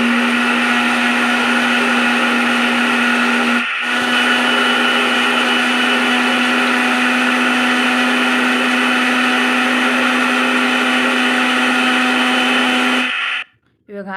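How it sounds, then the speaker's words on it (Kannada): A mixer grinder blends a chocolate milkshake with a loud, steady motor whine that runs without a break for about thirteen seconds before cutting off abruptly at the end. "ಇದನ್ನೆಲ್ಲ ಹಾಕ್ಬಿಟ್ಟು ನಾವಿವಾಗ ಮಿಕ್ಸಿಗೆ ಹಾಕ್ಕೊಳ್ಳೋಣ."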